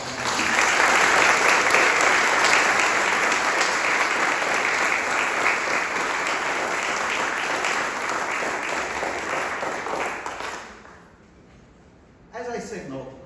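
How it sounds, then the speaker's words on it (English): Sustained audience applause at a synagogue board member's address during a rededication ceremony, a dense steady roar of many hands for about ten seconds that fades out, then a brief burst of clapping returns. "please join me in applauding them all now"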